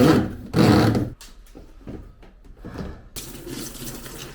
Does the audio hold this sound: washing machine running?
yes